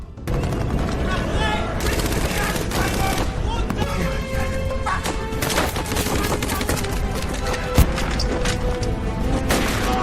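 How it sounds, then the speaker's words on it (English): Heavy gunfire from a German armored vehicle in a World War II film, dense rapid bursts over a loud battle din that runs the whole time, with a sharp impact near the end. "A German armored vehicle appeared. It opened fire."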